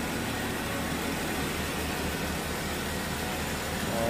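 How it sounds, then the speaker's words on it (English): Engine bay of a 2017 Jeep Wrangler Sahara four-door with its V6 running, a steady close broadband idle hum with a low drone throughout and no talk. "Let's listen to the sounds of the engine."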